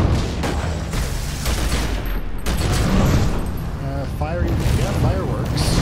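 Fireworks in the video game Secret World Legends, a dense crackling barrage of pops and bursts running throughout, mostly under a person talking.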